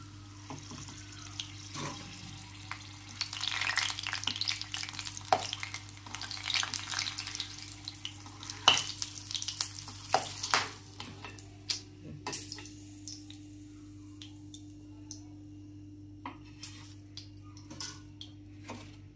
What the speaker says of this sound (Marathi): आता ही 2 भजी काढली की 2 मिरच्या घालणार तेलात